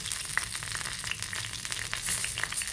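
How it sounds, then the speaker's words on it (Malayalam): Mustard seeds in hot oil for a green chilli curry: a continuous close sizzle broken by scattered sharp little pops and crackles, with no voices. "കടുക് പൊട്ടി വരട്ടെ"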